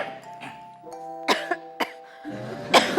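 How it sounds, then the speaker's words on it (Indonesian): Several sharp coughs burst out at irregular intervals, close and fairly loud, with a low steady tone humming underneath. "Dokter batuk juga."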